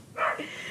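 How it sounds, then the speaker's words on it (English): A single short bark from a pet dog, fairly close and clear, standing alone without talk. "if you can hear that, that's Foxy, my dog"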